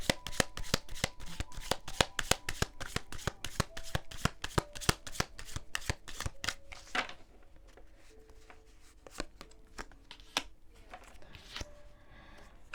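Oracle cards being shuffled by hand, a rapid run of crisp riffling flicks for several seconds, then slower, quieter intermittent shuffles and slides close by.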